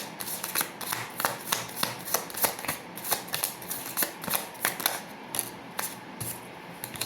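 Tarot cards shuffled and drawn by hand, a steady run of soft riffling flicks and slaps close up, with no talking.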